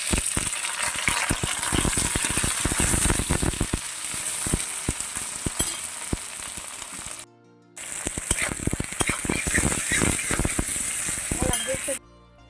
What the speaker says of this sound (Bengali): তো পেঁয়াজগুলো আমার হালকা হালকা ভাজা হয়ে গেছে